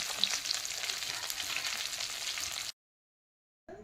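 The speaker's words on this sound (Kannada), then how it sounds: "ಈಗ ಫ್ರೈ ಮಾಡಿದೆ ರೀ" Fish fries in a pan in North Karnataka village style, a loud, dense, continuous sizzle up close that cuts off abruptly into silence, with a brief return of sound at the very end.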